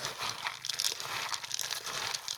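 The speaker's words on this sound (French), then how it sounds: "quand je mets les granulés, je les fais pleuvoir" Dry food pellets for guinea pigs are scattered and shaken into a bowl, a brief close crinkly rattle of many small hard bits with no voice over it.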